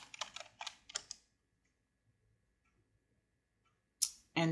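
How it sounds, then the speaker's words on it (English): Computer keyboard being typed on close by, a quick burst of a few key clicks, then near silence, followed by two sharper clicks at the end. "I'm going to type in frames"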